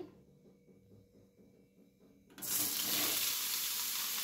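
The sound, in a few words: paneer pieces frying in ghee in a pan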